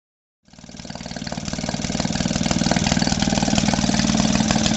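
A Maytag Model 72D washing machine engine fires up and keeps running: a loud, close, rapid putter with an even popping rhythm that holds steady throughout, with no talking.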